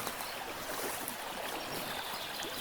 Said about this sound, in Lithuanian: Čiurlenimas.